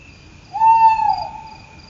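A single owl hoot rings out clearly, a short hollow call rising out of a quiet background with faint insect chirring underneath.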